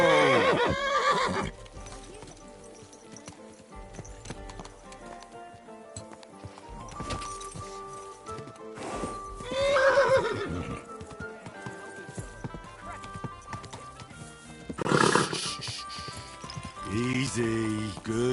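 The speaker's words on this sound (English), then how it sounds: "Easy. Good horse." Horse in a video game whinnying repeatedly in loud bursts, with hooves clip-clopping steadily between the neighs, close and clear.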